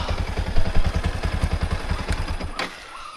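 Motorcycle engine chugging close by with a rapid, even thumping pulse, loud at first, then fading away quickly as the bike moves off, leaving a quiet background.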